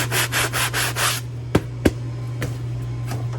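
A brush scrubs loose cornmeal off the crust of freshly baked bread in a rapid series of close, dry rubbing strokes, followed by a few sharp taps and knocks.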